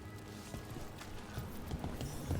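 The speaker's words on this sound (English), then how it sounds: "The next you're watching over a pack of donkeys." Donkeys clip-clop in the Dragon Age: The Veilguard video game, a faint, irregular patter of hooves over a quiet ambient bed, with no talk.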